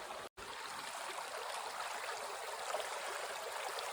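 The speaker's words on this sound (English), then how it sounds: "Got a nice even flow going through the sluice, not too fast, not too slow," Water runs in an even, steady rush through a sluice box during gold prospecting at Nugget Lake, a continuous close wash broken only by a split-second dropout near the start.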